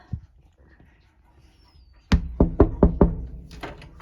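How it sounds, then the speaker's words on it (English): After a quiet stretch, a series of about five sharp knocks on a door rings out close by, followed by a couple of softer taps. "knock and get them to come this way"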